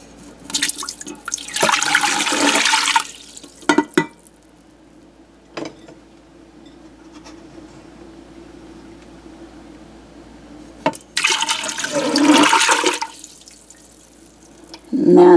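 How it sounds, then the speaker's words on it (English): Water poured into a Nesco Carey canner/cooker holding jars, two bursts of splashing, running water with a quieter stretch between them, close by and without talk. "the next thing we're going to do is put in 2 quarts of water"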